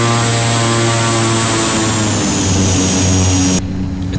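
A Carenado Caravan EX single-engine propeller plane taxis in X-Plane 11, its loud, steady engine drone and prop whine holding close and constant before cutting down sharply near the end.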